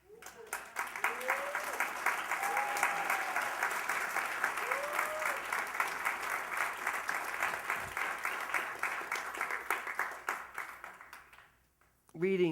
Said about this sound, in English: So Al, would you just stand and take a nice applause?